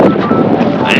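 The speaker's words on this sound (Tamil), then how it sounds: "பயங்கரமாக இருக்கு காற்று." Strong wind roars and buffets the microphone in a continuous loud rush outdoors near a bus stop in Azerbaijan, with a voice partly under it.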